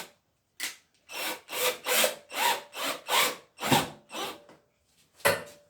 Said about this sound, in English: using a power driver. It's a little bit noisy